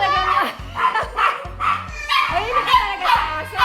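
Royal giant poodles bark repeatedly in quick, sharp yaps close by, several dogs overlapping with whimpering tones while people talk in the background.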